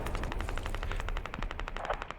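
Machine gun fire rings out in the video game Squad during an assault on underground tunnels: a rapid, even burst of many close shots in quick rhythm, with no voices over it.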